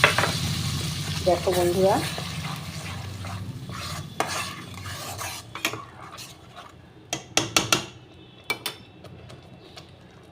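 Spices sizzle in hot oil in a pan for a Bengali jackfruit-and-prawn curry, stirred with a utensil that scrapes and clinks against the metal several times, a person speaking briefly over the frying.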